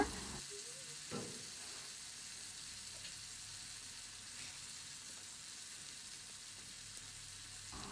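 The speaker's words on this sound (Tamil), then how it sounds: "நல்லா வதக்கிக்கிறேன்" Ingredients for a fish curry sauté in a hot pan with a soft, steady sizzle and hiss. A few faint scrapes of stirring come through, and the sound stays quiet and close throughout.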